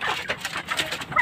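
A female Rhode Island chicken gives a few short, close clucks in quick succession, moderately loud with no other sounds around them.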